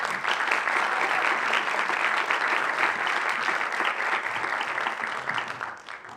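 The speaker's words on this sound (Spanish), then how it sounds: "Un aplauso para ellos." An audience at a casting event on LGBTIAQ+ representation claps steadily and densely, holding a full, even level before tapering off near the end, with no voices over it.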